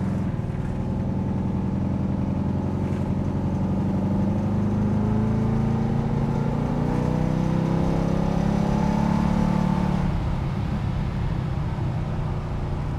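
A 1964 Buick Riviera coupe's loud, steady engine drone rises in pitch as it accelerates, rumbling continuously with road noise and no speech.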